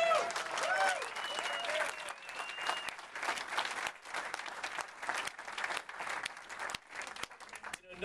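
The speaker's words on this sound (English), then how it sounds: "we should applaud them" A crowd at an outdoor protest rally against Governor Walker in Hudson, Wisconsin breaks into sustained clapping and cheering, with whistles and shouts rising over the dense applause that gradually thins.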